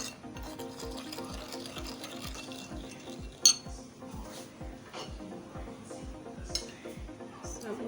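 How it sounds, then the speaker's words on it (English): A spoon stirring and rubbing through a fish marinade in a bowl, a regular rhythm of soft scraping strokes about twice per second, close and fairly quiet, with one sharp clink midway and no talking. "I'm going to mix it properly."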